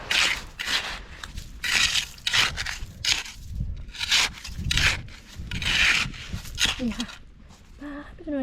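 Rough, repeated scraping and rubbing of sand in uneven bursts while digging for clams, close by, with a voice talking over it throughout.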